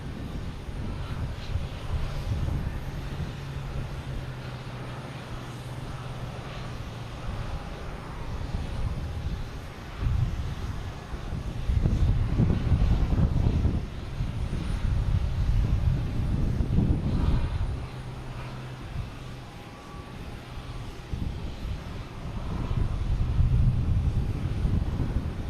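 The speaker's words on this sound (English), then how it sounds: "We got a JetBlue A220 heading to Vancouver." JetBlue Airbus A220 jet departing Boston Logan for Vancouver, a fairly quiet rumbling engine drone that swells and fades in waves, mixed with some wind buffeting.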